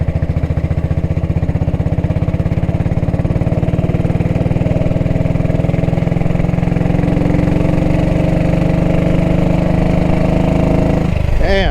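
A Norton Model 20 motorcycle engine runs steadily and loud throughout a ride, a constant close throbbing drone with little change, ending in a brief shift in pitch near the end.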